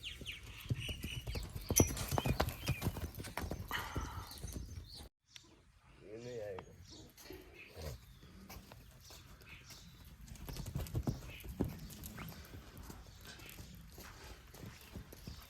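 Hooves of Toofan, a horse led into a riding ring in Gujarat, clip-clop in an irregular walking rhythm at close range, broken by a brief silence, with people talking over the steps.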